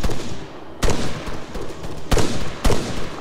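Gunfire crackles through a firefight in the video game Arma 3, with loud sharp shots landing in uneven bursts over a dense, continuous roar of battle noise.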